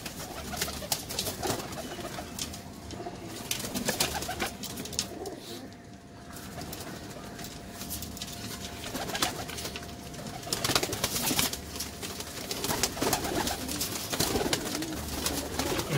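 Pigeons coo repeatedly at close range while pecking grain from a homemade feeding tray, with soft rustling and scattered background noise around them.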